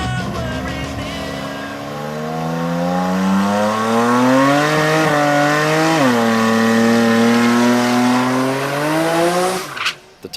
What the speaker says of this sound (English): The tires are warmed up.